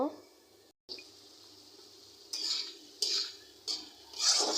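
A spoon scrapes and clatters against a cooking pot as potatoes are stirred and fried for a puti fish and spinach curry, in several bursts of metallic scraping, close and fairly loud with short pauses between.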